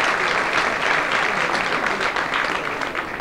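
A studio audience breaks into steady applause for fashion designer Vassilios Kostetsos, many hands clapping loudly and evenly for a few seconds.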